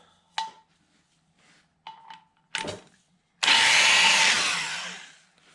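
A grinding stone works a valve seat in a cylinder head from a 1973 Chevelle SS 454, giving a few short metallic bursts followed by a sustained loud whirring grind that slowly tapers off.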